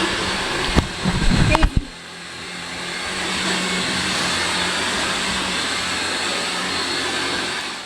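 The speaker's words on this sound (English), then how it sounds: "I also need to vacuum." A vacuum cleaner runs in a messy sticker shop office after a couple of thumps and handling noises. It settles into a steady, loud, even drone that continues to the end.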